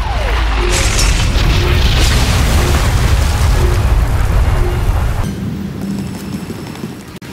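A loud, sustained explosion roars as a supply cache is blown up in a Star Wars game on Rishi, a rumbling blast lasting several seconds before tapering off into quieter ambience.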